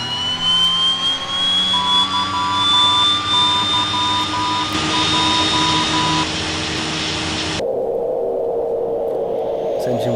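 Engine 1 of an OV-10 Bronco starting up in the FSX flight simulator: a rising turbine whine climbs steadily over a droning rumble, then cuts off abruptly to a quieter hum near the end.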